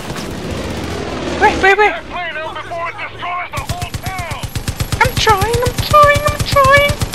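Rapid automatic gunfire from enemies being strafed in the shooter game Far Cry 5, steady repeated bursts running beneath loud, excited talk through most of the clip.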